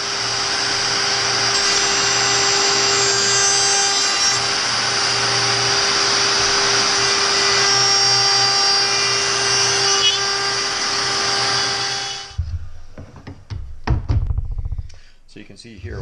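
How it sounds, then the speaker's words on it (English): A wood router cuts along a pattern for an inlaid light sconce with a vacuum running alongside, a loud steady whine with a low hum lasting about twelve seconds before cutting off, followed by a few brief knocks and handling noises. "And now we can just go along the pattern and vacuum up any of the debris that comes out from the router."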